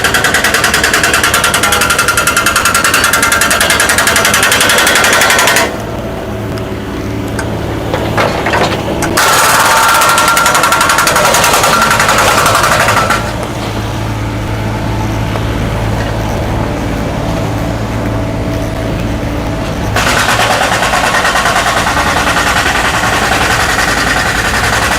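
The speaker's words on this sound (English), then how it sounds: "We're walking by with their jackhammering," Loud, rapid jackhammer pounding in repeated bursts, broken by short pauses filled with background rumble, close and harsh.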